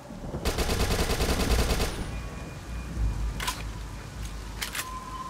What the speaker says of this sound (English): SMG.